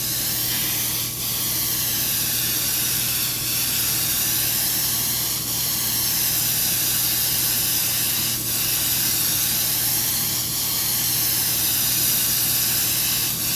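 Airbrush spraying thinned opaque paint at about a 45-degree angle, a continuous loud, close hiss with a steady low hum underneath and almost no variation throughout.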